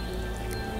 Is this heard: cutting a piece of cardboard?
no